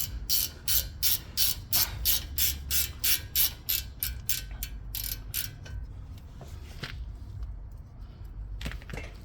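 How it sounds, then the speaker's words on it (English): A ratchet loosens a long car brake caliper bolt, giving a fast run of loud, close, evenly spaced clicks over roughly six seconds before it thins out into a few scattered metallic clicks and clunks. "I'm in the process of removing the caliper bolt."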